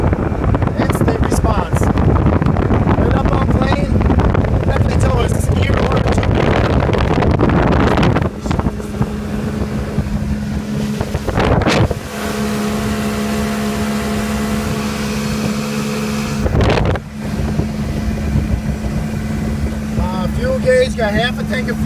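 Maxum 1700 motorboat cruising with the engine trimmed all the way down, a steady droning hum mixed with heavy wind buffeting on the microphone, with a few loud gusts.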